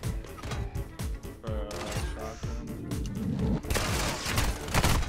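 Rapid automatic gunfire bursts and mechanical weapon clatter from a Call of Duty: Modern Warfare II online match, loud and close, with shots in quick strings and a denser barrage near the end; a player's voice talks briefly over it.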